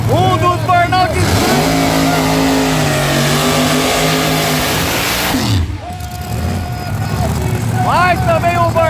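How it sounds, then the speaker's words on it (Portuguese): A Chevette car does a burnout at the Londrina racetrack, its engine roaring loud and steady with revving swells, while an announcer's voice talks over it throughout. "Excepcional o burnout do Chevette Godzilla."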